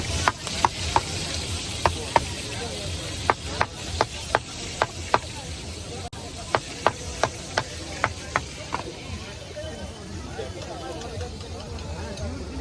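Seafood sizzles and fries steadily at a Puri beach stall, with a run of regular sharp metallic taps from a ladle or spatula striking the pan at an even rhythm. Faint voices sit in the background.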